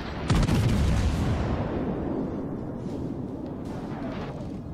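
Warship shells bursting in World of Warships gameplay: a sharp loud boom opens, followed by a rolling rumble of further explosions that fades slowly.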